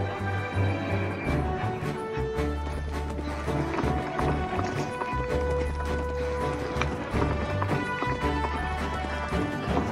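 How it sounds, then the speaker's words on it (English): Galloping hooves of a horse-like desert animal drum in a fast, steady rhythm under a layered orchestral music score throughout. "They gallop, much like the extinct horses and zebras of Earth's past."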